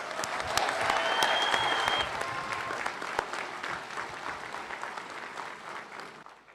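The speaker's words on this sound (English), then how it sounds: "Let's give them a round of applause." An audience at a community college graduation ceremony applauds students receiving certificates and associate degrees, a dense, full round of clapping with a few sharp individual claps and whistles, gradually fading.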